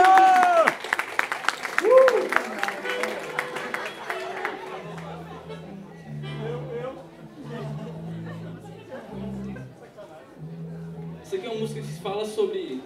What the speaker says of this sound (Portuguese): Me aplaude.